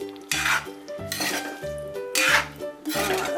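A spoon stirs quince pickle in a pot, giving repeated scraping, clanking strokes against the metal in a steady rhythm, close and fairly loud.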